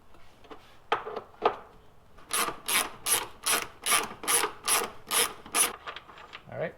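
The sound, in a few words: breaker bar loosening 17mm shock bolt on Honda Pilot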